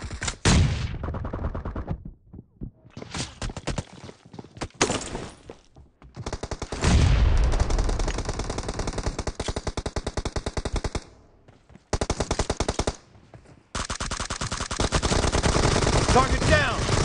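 Gunfire in a PUBG Mobile team deathmatch, with sustained automatic bursts and single shots broken by short pauses, loud and close, mixed with other game sounds.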